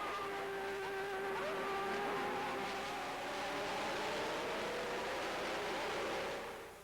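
Formula 1 cars roar away at the start of the 1989 race, several engines howling loudly together with rising pitch as the field accelerates, fading slightly at the very end.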